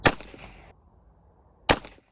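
Two sharp, loud gunshots from a budget 1911 pistol in .45 ACP ring out at a shooting range, spaced about one and a half seconds apart, each a crisp crack with a short decaying tail.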